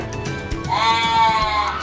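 Goats on a farm being fed, one loud, wavering bleat rising out of nearby bleating and rustling, close to the listener.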